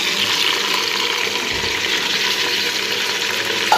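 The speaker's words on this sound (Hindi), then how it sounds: "अब मैं इसमें टमाटर डालूंगी।" Tomatoes going into a cooking pan of browned onions, a loud, steady wet hiss and sizzle that runs the whole time, with a brief clatter at the end.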